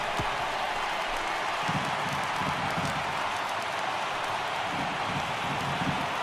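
A baseball stadium crowd in MLB The Show 18 roars in a steady, dense wash of cheering and applause, loud and continuous throughout, with no clear speech on top.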